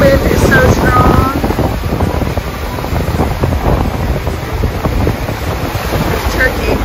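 Strong wind on the coast of Kos, Greece, buffets the microphone loudly and steadily, and a faint wash of sea is heard underneath. The roar is close and rough for the whole stretch, with no clear speech.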